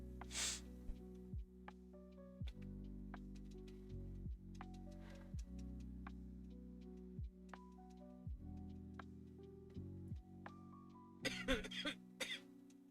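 A sick man coughs several times, faint and somewhat distant, with short separate bursts and a rougher cluster of coughs near the end, over a quiet steady low background tone.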